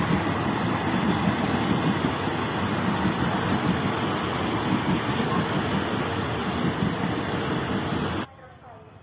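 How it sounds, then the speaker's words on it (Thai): A steady loud rumble of a Ubon Ratchathani–Bangkok train rolling into Krasang station, Thailand, continuous and broad, cutting off abruptly near the end into quiet. "รถไฟจอดแล้ว"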